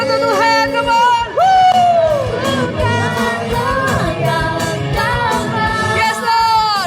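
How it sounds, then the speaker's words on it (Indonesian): A church congregation at a worship service in Kuta, Bali, shouting and cheering for God over live worship music, with voices and a steady beat under the crowd noise. "Suaranya sorak-sorak untuk Tuhan"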